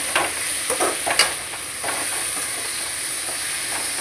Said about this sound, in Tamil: வெங்காயம் இந்த மாதிரி தக்காளி 2 வறுக்கணும்